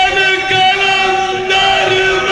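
A large crowd at a live religious celebration for Imam Hassan during Ramzan at a madrasa loudly chants slogans in unison, a sustained, droning roar of many voices with little pause.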